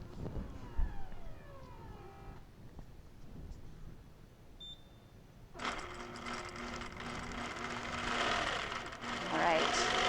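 A QuiltPath-guided longarm quilting machine starts stitching a quilt, its steady motor hum and rapid needle rhythm rising after a quiet stretch and running continuously, with a few electronic tones and faint talk early on.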